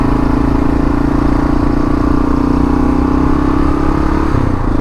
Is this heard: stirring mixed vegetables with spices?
no